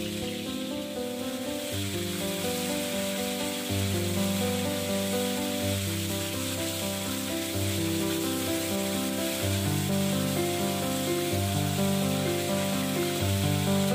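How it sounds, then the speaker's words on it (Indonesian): Chicken pieces frying half-cooked in hot oil in a pan for ayam kicap, a steady continuous sizzle running throughout beneath background music, with no talking. "Ayam ni kita cuma goreng separuh masak saja, tak perlu sampai masak"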